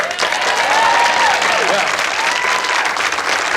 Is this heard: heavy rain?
no